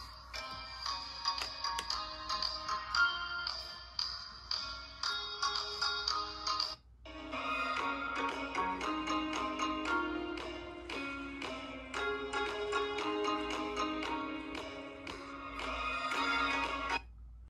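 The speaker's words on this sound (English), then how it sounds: "play the music and the music sound coming from the watch" Music plays from the small speaker of an IWO 13 smartwatch, a thin, bright melody with a clear rhythmic pulse that breaks off briefly partway through and then continues at a fairly quiet level.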